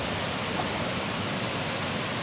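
Rushing water of Spokane Falls in Spokane, Washington pours down into a pothole as a loud, constant roar of broadband noise, steady throughout with no talking.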